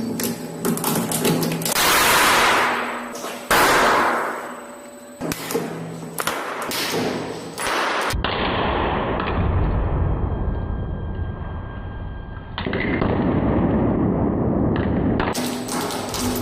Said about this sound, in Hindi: बुलेट इस श्रेडर के अंदर जाते ही ब्लास्ट कर जाती है